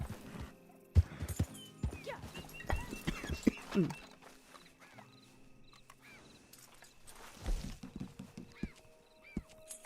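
Horse hooves clip-clop in Red Dead Online as a rider leads the horse, irregular steps with an occasional whinny and other game sounds, moderately loud and close.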